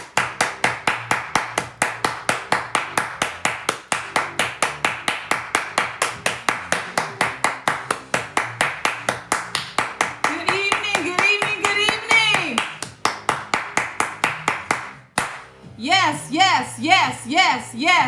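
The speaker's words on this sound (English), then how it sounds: "let's clap it up" Steady, brisk hand clapping continues throughout, loud and close, with a voice talking over the applause partway through.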